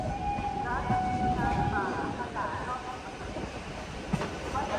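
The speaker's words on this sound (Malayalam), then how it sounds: "ട്രെയിൻ ഇതാ ഹസ്രത്ത് നിസാമുദ്ദീൻ റെയിൽവേ സ്റ്റേഷനിലേക്ക് ഇതാ എത്തിക്കൊണ്ടിരിക്കുകയാണ്." A train pulls into Hazrat Nizamuddin railway station, with rolling wheel clatter and a few squealing tones over busy platform noise, moderately faint, while people talk in the background.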